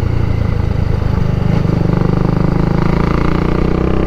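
A Ducati Multistrada motorcycle engine runs steadily up close, a continuous throbbing drone with a loud, even low rumble throughout and no talk.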